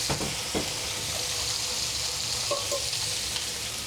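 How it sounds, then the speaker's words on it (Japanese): Daikon radish sizzles steadily in a hot pan in chicken drumstick fat, a continuous bright hiss with a few soft clicks and pops, no voices. "この大根を焼いてあげる。"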